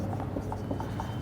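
A marker or chalk scratches across a classroom board in short rhythmic strokes, soft and close, with no talk over it.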